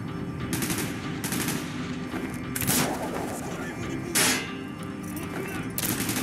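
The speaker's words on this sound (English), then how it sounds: "Gunfire's drawing attention." Rapid bursts of automatic gunfire crackle in a game, several short volleys separated by brief pauses, with a louder close burst near the middle.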